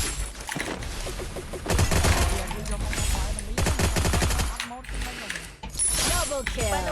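Rapid bursts of P90 submachine gun fire from the Free Fire video game rattle loudly in long volleys, with short pauses between strings of shots and game effects around them.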